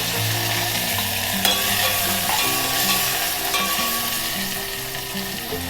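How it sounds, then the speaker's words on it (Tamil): Bitter gourd pieces frying in hot oil with mustard seeds and curry leaves, a steady, close sizzle with faint stirring, continuous and even throughout with no talking. "கடுகு, கொஞ்சம் கருவேப்பிலை, கட் பண்ணி வச்சுருக்கிற பாவக்காயை சேர்த்துடலாம்."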